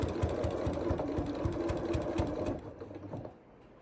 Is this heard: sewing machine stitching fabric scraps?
yes